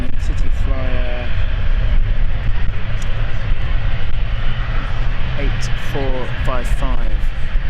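A British Airways CityFlyer jet on the Amsterdam flight at London City Airport produces a loud, constant engine rumble, and voices talk over it at the start and end.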